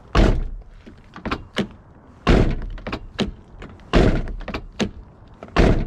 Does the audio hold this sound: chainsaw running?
no